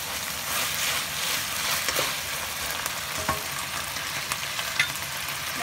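Garlic frying in a pan for a beef and broccoli dish, a steady bright sizzle with a few stirring scrapes and taps, close and continuous, without talk.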